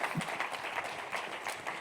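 Applause from a church congregation at a Spanish-language Christian sermon, a steady wash of many hands clapping at moderate level for a couple of seconds, with no voices over it.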